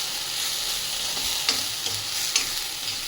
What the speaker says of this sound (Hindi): दाल बहुत अच्छे से भूननी है।